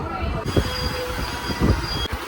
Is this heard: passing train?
yes